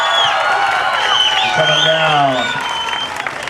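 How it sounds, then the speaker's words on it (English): A crowd applauds and cheers at the Surfers' Hall of Fame ceremony in Huntington Beach, loud and sustained, with a voice speaking over the clapping and a few whoops. "one more round of applause, folks"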